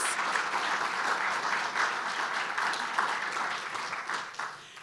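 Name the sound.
applause for Freshwater Land Trust staff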